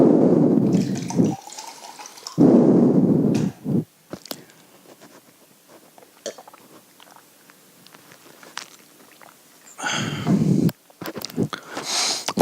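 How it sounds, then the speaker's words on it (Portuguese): Someone drinking a glass of water, with several bursts of gulping, slurping and handling noise close to the microphone, separated by quieter stretches with small clicks and taps. "Copie isso daí enquanto eu bebo um copo d'água aqui."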